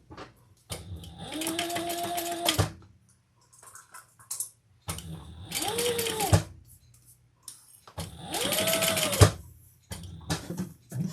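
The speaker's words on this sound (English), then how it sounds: "we're going to sew that together at the seam allowance in the pattern" A sewing machine stitches a seam on a leather and vinyl crossbody bag in three separate runs of rapid, close mechanical clatter, with short quiet pauses between them.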